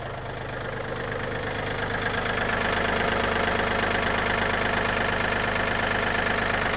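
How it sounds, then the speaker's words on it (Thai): A 2014 Yanmar EF393T farm tractor, a 39-horsepower three-cylinder diesel, idles up close. It gives a steady, even throbbing hum that swells slightly at the start, then holds level, with no voices over it. "เป็นยันมาสสามิบเก้าแรงค่ะ เป็นเครื่องยนต์สามสูบค่ะ"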